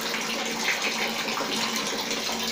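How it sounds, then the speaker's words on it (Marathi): Water running steadily from a shower head fed by an instant electric water heater, a soft continuous hiss and spray nearby with no talk. "अतिशय कडक पाणी आलेलं आहे. आता आमच्याकडे नळ नव्हता म्हणून आम्ही शॉवर काढला आणि त्याच्यामध्ये ती ट्यूब टाकली."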